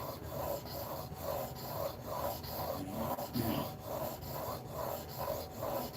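A chisel tip is rubbed back and forth on 1000 grit sandpaper. The quiet, steady scratching repeats in an even rhythm of about two to three strokes per second, close to the microphone.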